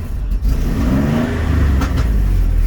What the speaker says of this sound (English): you'll see it's running really bad. Yeah, it's having a hard time idling